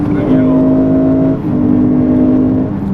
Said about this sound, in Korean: 이게 변속 직전에 나오는 사운드는 아주 좀 인위적이기도 하네요.